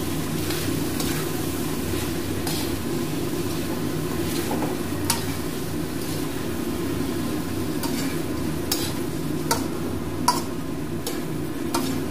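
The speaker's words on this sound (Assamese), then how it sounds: "আকৌ পুনৰ ভাজি লওঁ" Broiler chicken pieces frying in a pan with banana flower paste give a steady, moderately loud sizzle, broken by occasional sharp ticks and clicks from a utensil.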